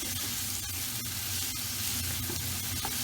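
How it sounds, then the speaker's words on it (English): Chopped onions fry in vegetable oil in a pot, making a continuous soft sizzle and hiss with a few faint crackles, steady and alone without voices. "we're going to add in 3 tablespoons of vegetable oil and we'll add our chopped onions straight in"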